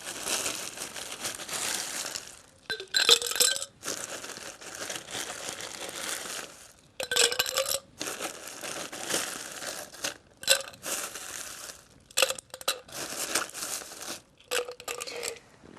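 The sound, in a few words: ice being added to a tall cocktail glass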